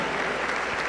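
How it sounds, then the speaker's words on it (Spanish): A church congregation applauds in a dense, steady burst of clapping that fills the whole brief moment, with no talking over it. "Aplauso para el Señor Jesús."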